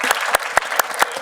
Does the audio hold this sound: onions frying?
no